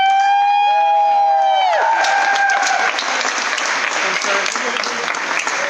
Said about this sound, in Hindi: तो मैं चाहता हूं हम सब जोरदार तालियां।